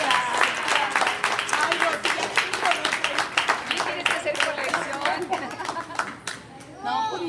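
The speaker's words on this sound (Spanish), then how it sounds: "¡Fuerte el aplauso, por favor!" An audience at a recognition celebration in Chicago claps in a lively, uneven burst of hands, with chatter and voices mixed in throughout.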